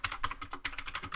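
Code being typed on a computer keyboard, a quick, close, steady patter of key clicks with no voices over it.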